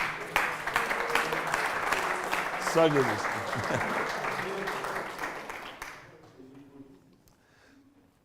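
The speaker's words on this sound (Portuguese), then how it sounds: "Dê um aplauso ao Senhor, meu Deus." A church congregation applauds in a dense wash of clapping that fades out near the end, as a voice speaks over it.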